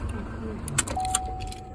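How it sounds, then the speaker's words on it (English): A key jingles as it is pulled from the ignition of a Chevy Colorado pickup, giving a couple of short metallic rattles up close inside the truck. "Wow, my key comes out."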